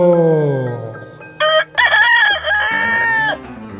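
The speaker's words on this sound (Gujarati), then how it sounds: "કૂકડો" A rooster crows once, a loud, close, drawn-out cock-a-doodle-doo following a short lead-in of descending tones.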